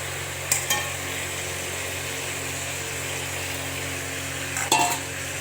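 Prawns sizzle and fry steadily in a hot pan with oil for a shrimp curry, a constant close hiss with two brief clinks of a spoon or utensil against the pan.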